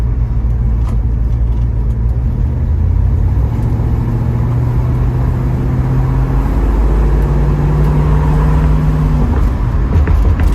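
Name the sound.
1972 Ford Mustang Mach 1 driving on the highway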